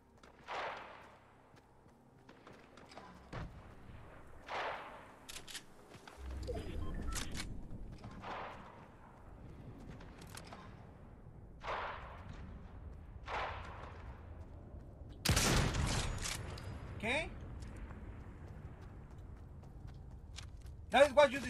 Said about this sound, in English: There is somebody over here shooting.